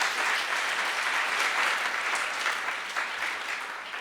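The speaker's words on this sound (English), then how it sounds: "Please stand up, and a special applause to her." Steady applause from an audience at a water-research conference opening plenary, honoring a young water professional asked to stand; continuous, fairly soft clapping that tapers slightly toward the end.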